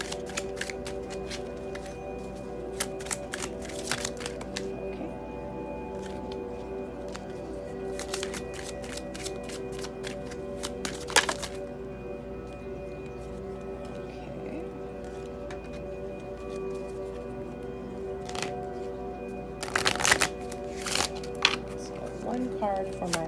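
A deck of angel cards is shuffled by hand during a tarot-style reading, with soft riffling and flicking bursts that come and go over steady background music, growing busiest toward the end.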